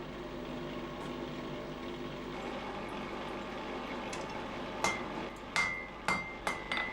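A hammer strikes copper pieces being hand-forged into a cauldron, with five sharp metallic clangs ringing out near and loud in an uneven rhythm, following a low steady background hum.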